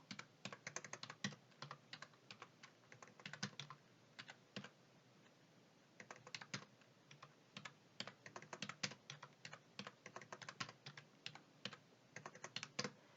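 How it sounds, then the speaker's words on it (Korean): Keys clack on a computer keyboard while a spreadsheet is being edited with F2 and Enter, in quick close bursts of presses split by short pauses, dropping out for about a second before typing resumes. "단축키는 키보드 F2키 누르면 돼요. 고칠 거니까 F2, 엔터, F2, 엔터."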